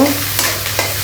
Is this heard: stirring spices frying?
yes